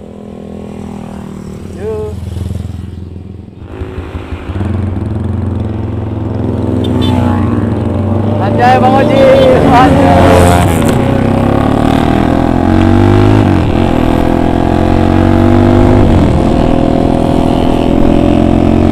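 A Kawasaki ZX motorcycle engine runs rough, idling unevenly, then revving up and holding a loud, strained drone with wavering pitch, while people talk over it.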